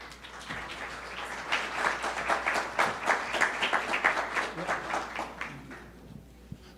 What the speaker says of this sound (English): So please give a big applause to Team SafeSip.